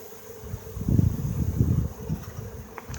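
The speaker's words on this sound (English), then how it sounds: "We're trying to get a ball of bees down here in the bottom." Honeybees from a package being shaken into the bottom of a hive in Eastern Washington give a close, low buzzing hum that swells in the middle and eases off, with some wind noise.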